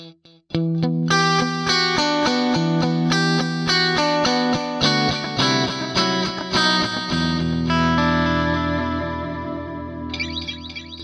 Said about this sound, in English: the PP delay, which is a ping pong delay